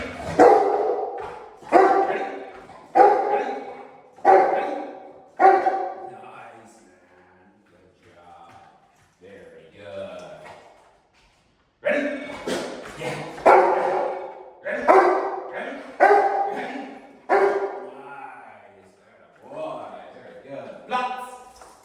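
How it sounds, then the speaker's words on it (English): A dog barks hard and repeatedly while being activated with an e-collar signal during training, bursts of loud close barking in rhythmic runs with a brief lull midway, a trainer's voice occasionally mixed in. "Why does it make him bark harder?"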